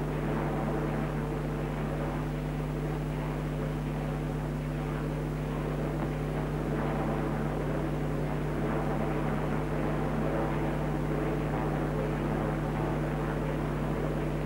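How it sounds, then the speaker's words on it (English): Aircraft engines drone steadily and evenly throughout, a deep continuous hum with strong low tones that neither swells nor fades, heard alone without voices. "Maybe Russian planes coming out to meet us."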